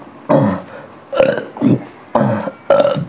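A person belches repeatedly during a spiritual healing session, with four loud, drawn-out burps close to the microphone separated by short pauses.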